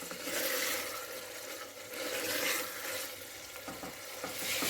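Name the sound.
meat being stir-fried in oil for biryani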